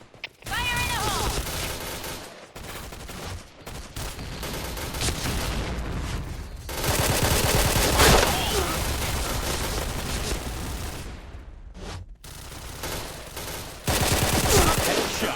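Loud, dense bursts of rapid gunfire from a K2C EBR in Point Blank, rattling almost nonstop with a few brief pauses between volleys.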